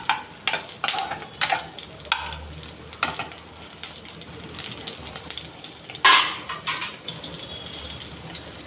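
Onions fry in a pan for a home-cooked soybean curry, with a steady sizzle broken by repeated scraping and stirring strokes and a louder burst near the end, heard close and with no talk.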